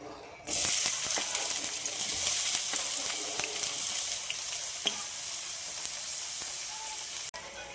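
Two chopped medium onions drop into hot oil in a pan for green chilli chicken gravy, bursting into a loud, close sizzle that holds steady with occasional stirring clicks.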